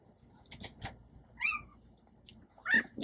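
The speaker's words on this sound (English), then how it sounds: "Loudest cat I've ever met in my life." A house cat meows loudly indoors, with several drawn-out, insistent cries spaced through a quiet room and faint handling noise between them.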